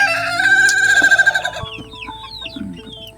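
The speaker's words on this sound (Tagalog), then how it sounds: "So dito yung aking maliit na alagaan ng manok." Chickens cluck and chatter up close while a rooster lets out a loud crow, followed by scattered higher calls from the flock.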